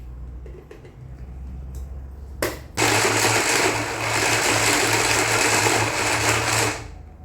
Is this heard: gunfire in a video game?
no